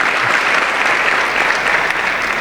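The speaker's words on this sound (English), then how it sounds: "Keep the claps towards the end" Audience clapping during a spiritual talk, a dense, steady wash of many hands, loud and close for the whole stretch, with no voices standing out.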